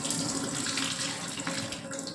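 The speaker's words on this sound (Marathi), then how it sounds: "छान स्वच्छ 2दा मी ते धुवून घेणार आहे." Basmati rice being rinsed under running water, a steady close rush of tap water splashing into a sink with no talking.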